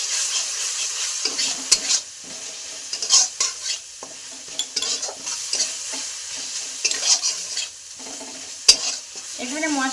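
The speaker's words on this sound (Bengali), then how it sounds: "দিয়ে আবারও আমি সুন্দর করে তেল ছাড়া অবধি কষে নেব" Spice paste frying in oil in a pan while being cooked down for chicken singara filling, soft sizzling with intermittent scraping and stirring strokes and a few sharp utensil clinks.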